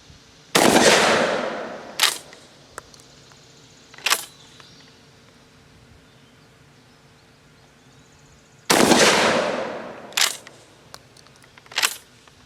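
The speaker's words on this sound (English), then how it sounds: "You know you're firing a gun, but it ain't as terrible as I remember." A GForce GF12 pump-action shotgun fires two loud, close shots several seconds apart, each ringing out with a long decaying tail and followed by two sharper clacks of the pump action being worked.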